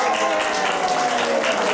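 Theater audience at an improv comedy show applauding and cheering, a dense, steady wash of clapping mixed with crowd voices, loud and sustained throughout.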